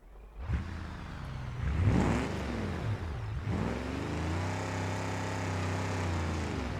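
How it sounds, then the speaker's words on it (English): A cargo van engine in the BeamNG driving game cranks, catches and settles into a steady idle, its tone swelling and dipping as it revs and then holding a smooth, loud drone. "I gotta start the engine."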